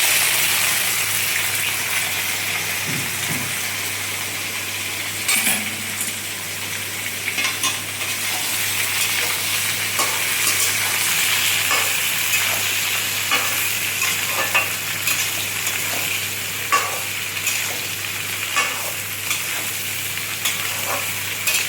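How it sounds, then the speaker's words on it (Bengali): Unripe jackfruit frying in a pan with tempering spices, a loud, steady close sizzle with occasional stirring scrapes throughout, no voices. "এঁচোড়টা একটু ভাজা হোক"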